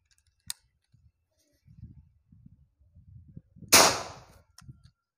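A single sharp, loud PCP air-rifle shot cracks out close by, followed by a brief hissing decay, with faint low rustling and handling noises before and after.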